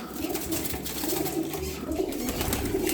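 Tumbler pigeons coo in soft, repeated low warbling calls, several birds close by over a steady background murmur of flock noise.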